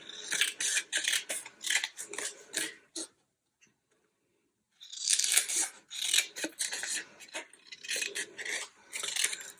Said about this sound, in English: So I am going to simply cut them off